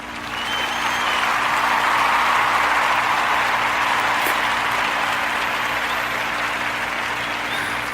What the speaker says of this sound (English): why the applause?